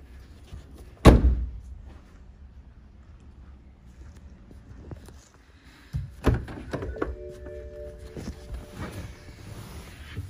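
Boot of a 2009 BMW 530 GT Gran Turismo with split-opening tailgate: a loud single thunk of the lid, then a softer mechanical clunk and motor whir as it moves again, fairly close with quiet gaps.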